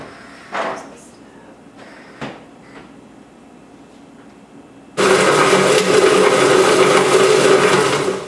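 A food processor blends a raw chocolate bar mixture: a few quiet knocks and handling sounds, then at about five seconds the motor kicks in abruptly with a loud, steady whirring roar that runs to the end.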